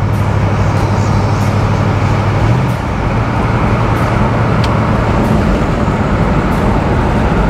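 A 1976 Pontiac Trans Am cruising down the road, a steady low engine drone with continuous tire and road roar throughout, no talking.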